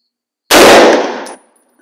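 A single loud, close gunshot from an old Browning BAR .30-06 rifle cracks sharply, then rings out and fades over about a second, with no voices.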